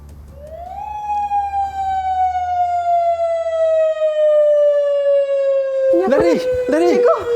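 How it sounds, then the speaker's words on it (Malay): A tsunami warning siren rises into one long, loud wail that slowly sinks in pitch as it holds, and excited voices break in near the end. "ini tanda amaran tsunami"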